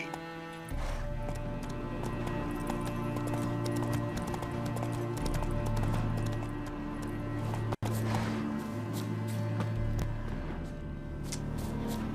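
Roach the horse gallops in the video game The Witcher 3, with rhythmic clip-clopping hooves running steadily over a musical game score, briefly cut off near the middle before resuming.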